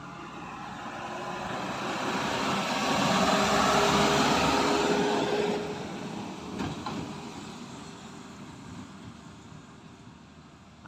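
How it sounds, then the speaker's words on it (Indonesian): Large trucks hauling loads roll past on a road beside rice fields, a broad rumbling roar that builds, peaks and slowly fades, with a fainter vehicle following behind. "Ada truk-truk besar yang melintas sambil membawa muatan."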